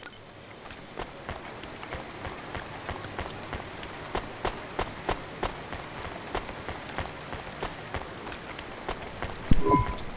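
Steady rain in the neon city of the video game Cloudpunk, pattering drops on hard surfaces with a run of sharp rhythmic taps like footsteps cutting through the continuous hiss.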